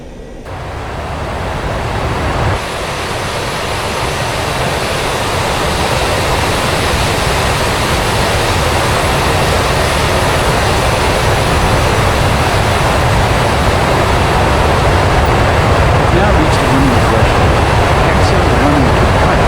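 A jet aircraft taxis in the DCS flight simulator, with a loud, steady engine roar and rumble that swells slightly at the start and holds without break, while someone talks over it.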